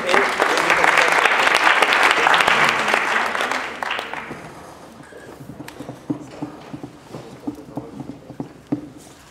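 An audience at a student debate bursts into loud applause that fades after a few seconds into scattered individual claps and room noise.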